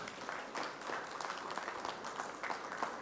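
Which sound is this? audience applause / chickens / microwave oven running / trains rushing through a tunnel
audience applause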